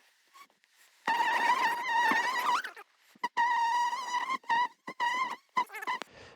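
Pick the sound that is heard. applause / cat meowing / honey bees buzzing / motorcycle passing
honey bees buzzing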